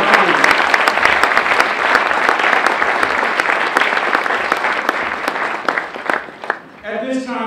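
A crowd at an institute event gives loud, sustained applause that fades toward the end, followed by a voice beginning to speak.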